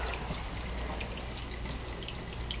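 A built-in indoor waterfall in a luxury apartment pours steadily, a soft continuous rushing wash with faint dripping splashes, moderately quiet and even throughout.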